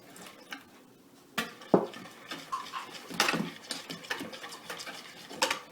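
Cake batter stirred with melted butter in a bowl for a strawberry cup with pastry cream, giving soft scraping and clinks of utensil against bowl in irregular bursts, close and moderately quiet, with no talking.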